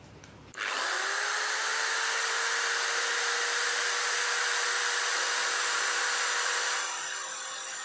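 H&L HL8252 electric polisher switched on at its highest speed of about 2800 RPM, a sudden start into a steady high-pitched motor whine that holds for several seconds and eases slightly near the end.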